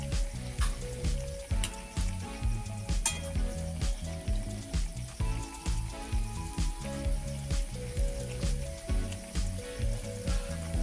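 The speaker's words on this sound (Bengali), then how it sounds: "দেখুন এইভাবে হালকা হালকা করে এটাকে উল্টে এটা ভেজে নিতে হবে।" Semolina and milk-powder darbesh sweets frying in oil, a dense crackling sizzle over a rhythmic, pulsing bubbling that repeats steadily throughout.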